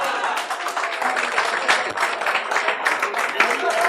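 Dense, continuous applause from a group, many hands clapping at once with a lively, crackling texture.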